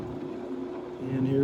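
A Smithy Granite 1324 lathe spindle runs in reverse, giving a steady mechanical hum with a tonal whine that shifts slightly partway through, close and continuous.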